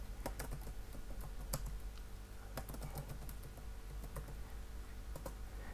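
Keys clatter on a computer keyboard as a name is typed into a running C++ program, a quick irregular patter of close clicks that goes on throughout with no voices.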